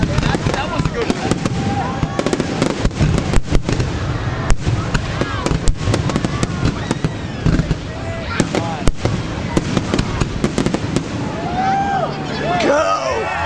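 New Year's Eve fireworks over Corowa, 2009-2010: loud, sharp bangs and crackling bursts fire in rapid, irregular succession while a crowd chatters in the background.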